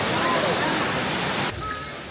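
Water falls steadily at the Akasha Ganga waterfall in Tirumala, a continuous broadband hiss heard up close, softening slightly partway through.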